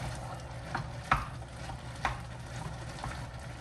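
Beef chili being stirred in a pot with tomato paste, a few soft scraping and stirring strokes over a low steady background, no talking.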